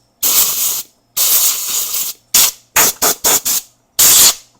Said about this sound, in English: And use the air compressor.